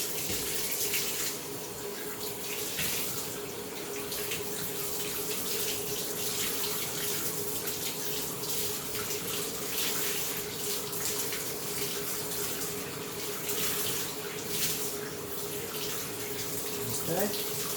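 Tap water runs steadily while a Bissell PowerForce Compact vacuum filter is rinsed out, a continuous close splashing gush at moderate level with no break.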